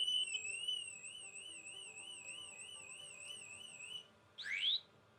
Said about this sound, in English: along with the freaking audible on the alarm going off